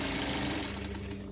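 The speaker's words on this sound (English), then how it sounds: "I sew that part." A sewing machine stitches a tablecloth with a fast, even mechanical whir and hum, close and steady before easing slightly at the end.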